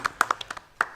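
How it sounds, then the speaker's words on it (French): A studio audience on a Guinean talk show about digital education gives a few sparse, crisp hand claps in a brief, close burst with no talk. "Voilà, on applaudit ça"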